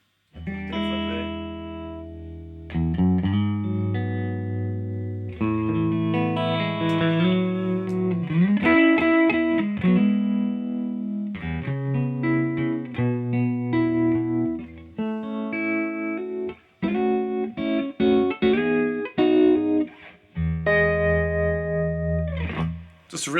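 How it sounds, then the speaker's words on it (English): An electric guitar plays chords and melodic phrases through a Chase Bliss Audio Gravitas pedal set to subtle sine-wave tremolo, adding a gentle pulsing waver to the tone, loud and up close. "subtle tremolo"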